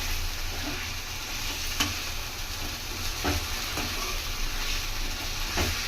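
Chopped red chili stirred into a sizzling butter chicken masala, Hyderabadi style, with a steady close fry hiss and scattered light spoon scrapes and taps against the pan, no talking.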